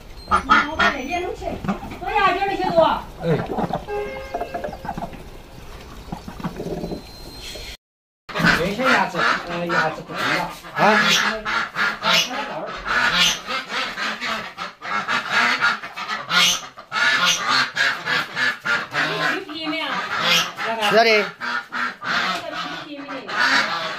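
Geese honk and ducks quack in loud, overlapping bursts outside the door of a rural farmhouse, with people talking nearby and a brief silent break partway through.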